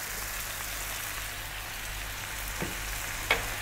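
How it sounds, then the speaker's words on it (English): Chopped onion hits a hot pan of browned mutton pieces for an Indian curry and sizzles in a steady, soft hiss, with a couple of faint clinks near the end. "We're now going to drop in that 1 cup of onion."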